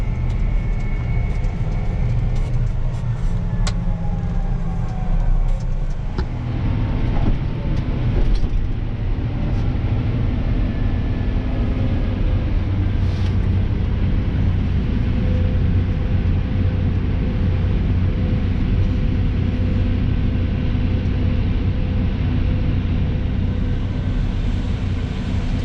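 John Deere 8R 370 tractor engine running while moving a corn harvest, a loud continuous low drone with rattling and clanking in the first few seconds, then an even steady roar, no voices.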